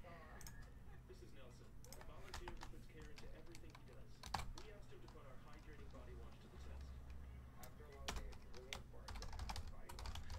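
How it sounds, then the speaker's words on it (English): Fast typing on a computer keyboard, a dense stream of light clicks with a few sharper key strikes, fairly faint, under quiet background talk. "Years of typing school, Jeremy."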